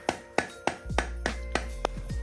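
A mallet taps a ring gear onto a transmission differential on an F23 transaxle, with about eight sharp, evenly spaced knocks, close and distinct, and a low hum underneath during the later strikes.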